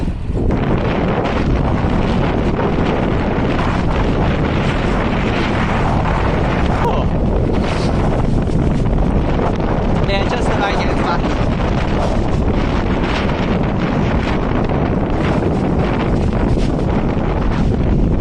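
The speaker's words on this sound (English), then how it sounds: "it was so windy" Strong, constant seafront wind roaring and buffeting the microphone throughout, a dense rumbling gust noise with no letup.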